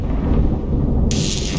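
A loud thunderous lightning hammer strike in a video game, a heavy booming rumble that sustains, joined by a bright crackling burst partway through.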